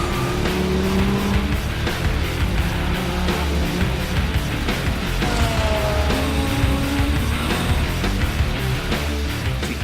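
A sports car at full throttle on a racetrack during a track day, engine roaring steadily and loudly throughout with shifting pitch and brief tire squeal as it corners.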